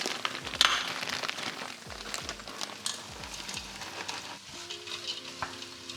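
Vegetarian mince for a lasagne hits a hot pan over a rich sauce base, a bright steady sizzle with spatula scrapes and stirring knocks, fairly quiet and close.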